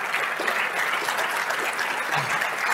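An audience at an Industry 4.0 talk claps after a speech, a dense, steady wash of applause lasting the whole moment with no voices over it.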